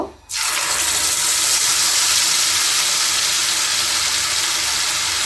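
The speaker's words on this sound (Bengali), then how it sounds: "কড়াইশুটির যে পেস্ট করেছি এটা দিয়ে নেব" Green pea paste hits a hot pan with black cumin already in it, setting off a loud, steady sizzle that starts abruptly and carries on evenly throughout.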